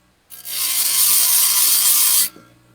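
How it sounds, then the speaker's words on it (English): A bench wheel grinder sharpens spear points, giving a single loud, steady grinding hiss that starts abruptly, holds for about two seconds, then cuts off, with no talking. "we're just going to set the 3 surfaces very gently against the wheel grinder"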